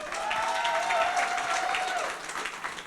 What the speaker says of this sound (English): Please, big round of applause for Mr.